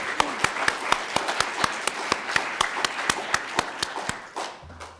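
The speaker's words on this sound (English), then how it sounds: "if we could just give her a round of applause," An audience claps for an honoree at a college summit, a fairly small round of distinct, evenly spaced claps that carries on for several seconds before tapering off.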